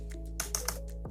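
A short burst of three crisp computer keyboard keystrokes while code is typed, closely miked over a steady electrical hum.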